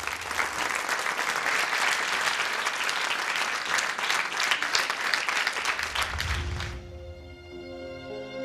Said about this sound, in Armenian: Այնպես որ ծափա արենք նրա համար